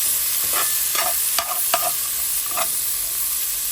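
Herbs fry in leftover grease in a pan with a steady bright sizzle, broken by several sharp scrapes and clicks of a utensil stirring against the pan.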